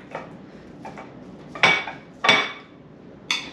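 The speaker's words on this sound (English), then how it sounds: "I just take the banana, mash it up a little bit with the potato masher" A potato masher pressing banana in a bowl for pancake batter, giving a few soft clinks and scrapes of metal against the bowl, close and fairly quiet, with the strongest hits spaced about a second apart.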